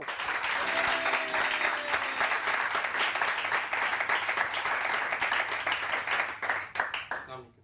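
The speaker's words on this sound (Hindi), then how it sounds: "जी बहुत सारी तालियां, बहुत सारी तालियां" A studio audience at a live morning television show bursts into sustained, dense applause that carries on for several seconds before tapering off, with a voice briefly audible beneath it.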